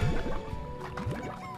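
Game character wading through water in Slime Rancher, with squishy drips and liquid gurgles repeating a few times, close and moderately loud.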